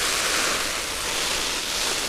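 Heavy water spray drumming on a Jack Wolfskin Gossamer one-man tent during a water test, a steady, dense hiss of rushing water that stays loud and even throughout with no gaps.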